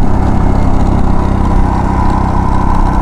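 A motorcycle engine revs under steady throttle while climbing uphill off a suspension bridge in Nepal, a loud, close, continuous engine drone with no talk.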